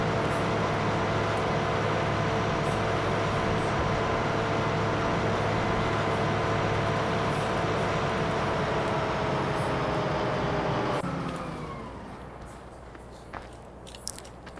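A modded Freightliner truck in Farming Simulator 2015 makes a steady, loud engine drone with a dense whine that holds for most of the stretch. Near the end it drops off sharply to a quieter idle, with a few faint clicks.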